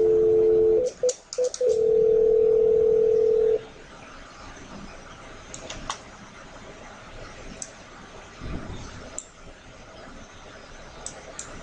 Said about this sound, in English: I'm going to dial the paging dn from 1002.